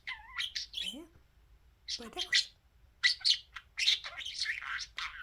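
A pet budgerigar, or parakeet, chirps and squawks in bright, close bursts with short pauses between them, while a person speaks quietly nearby.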